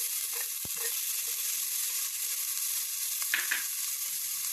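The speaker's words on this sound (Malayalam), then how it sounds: "ഇനി നമുക്കിതിലേക്ക് ഇഞ്ചിയും വെളുത്തുള്ളിയും ചെറുതായിട്ട് അരിഞ്ഞ് വെച്ചിട്ട് ആഡ് ചെയ്ത് കൊടുക്കാം." Minced ginger and garlic sizzle in melted butter in a pan for restaurant-style chicken egg fried rice, a steady close frying hiss with a couple of brief stirring clinks, no talking.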